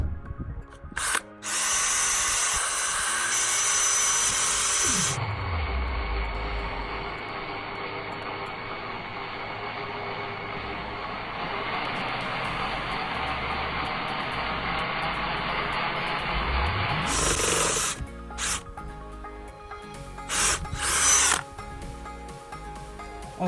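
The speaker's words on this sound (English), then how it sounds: "There was a little bit of smoke, but I think we should drill it again." A power drill grinds into an iPhone in a long, loud, steady whine lasting many seconds, winding up at the start and spinning down at the end, with shorter bursts after.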